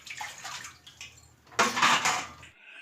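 Freshly washed metal utensils are lifted out of a tub of water and set into a basket, with splashing, dripping and clinking of pots and dishes, growing louder and busier toward the end.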